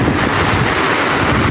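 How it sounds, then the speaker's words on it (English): Heavy rainfall in Mombasa makes a dense, constant roaring hiss, loud and unbroken, with buffeting wind noise on the microphone and no voices. "We are experiencing rain right now. It is not over, guys. It is still raining here in Mombasa."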